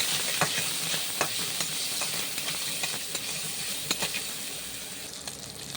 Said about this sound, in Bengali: তেলটা গরম হওয়ার পরে সিদ্ধ চিকেনটার মধ্যে দিলাম।